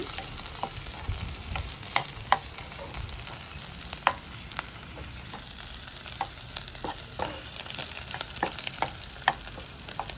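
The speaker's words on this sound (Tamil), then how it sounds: "கொஞ்சம் வதங்கட்டும் அப்பமா நல்லா பிரட்டி எடுத்து தருவா" Eggplant curry with chillies sizzles and fries in oil in a pan, a steady crackling hiss dotted with frequent sharp pops, close and even throughout with no talking.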